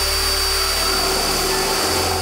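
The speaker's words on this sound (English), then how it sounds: "take our pin from the airsoft magazine and drill a hole here so it can push through" A power drill bores a hole through a real AK magazine being converted for airsoft, a steady close whine that holds for a couple of seconds and shifts pitch near the end as the bit breaks through.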